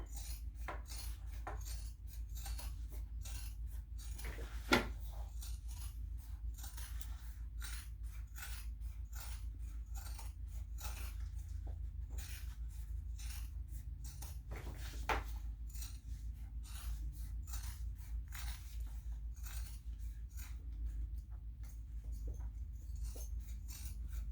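Scissors trim bulky fabric close to the stitching of a sewn messenger bag, producing a long run of small, evenly spaced snipping clicks over a low hum, faint and steady throughout.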